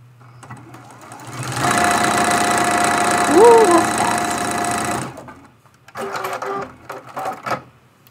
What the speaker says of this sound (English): I'm just sewing this seam and I'll be right back.